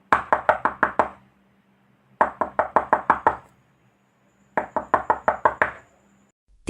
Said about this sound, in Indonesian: Tiga ketukan keras menghentak dari arah lemari tua di pojok ruangan.